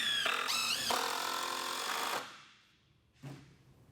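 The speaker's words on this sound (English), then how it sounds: "now I'm going to go ahead and screw our trim on the top" A power driver sinks screws into mitered wooden trim on a homemade aerial lift, a sustained whirring run that slows and stops, followed a moment later by a short second burst.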